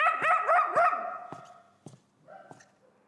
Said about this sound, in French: N'aboie pas au milieu de la nuit comme ça